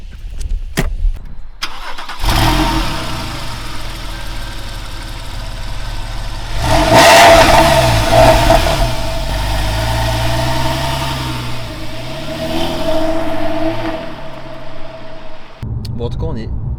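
A Porsche 997 Carrera 4S with a 385 hp engine on a race track, its engine starting to idle and then revving through accelerations and shifts, loud and close from inside the cabin, with people talking over it.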